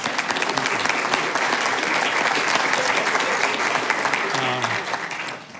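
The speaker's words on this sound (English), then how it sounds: "Let's clap for them." Audience at a city council meeting claps for young program participants, a full, steady round of applause that tapers off near the end, with some faint voices beneath.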